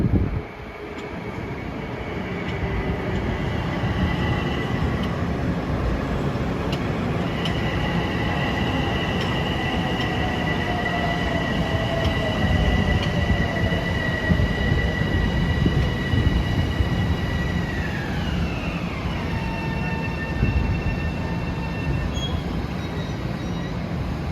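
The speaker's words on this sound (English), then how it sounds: "here comes 1701 from Huntington to New York, arriving on track number 3" Long Island Rail Road train from Huntington to New York pulling into a station on track 3, a loud sustained rumble with high squealing wheel and brake tones that shift and fall as it slows, no talk.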